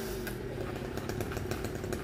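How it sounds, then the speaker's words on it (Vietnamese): A chainsaw runs at steady high revs, cutting through coconut bunches up in a coconut tree; a continuous loud buzzing drone without pauses or speech. "Đó, anh Tùng bắt đầu cưa mấy cái buồng dừa nha các bạn."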